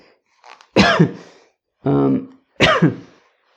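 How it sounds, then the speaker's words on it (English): Three close, rough coughs with a throat-clearing quality, separated by short pauses. "Start with like a nice little cough."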